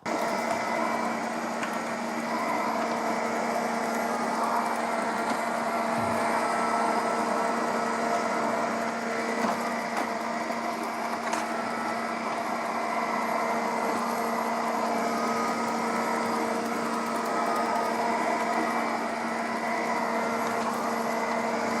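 Vacuum cleaner running over household carpet, a steady loud whirring drone with a constant motor hum and broadband airflow hiss, unbroken for the whole stretch with no talk.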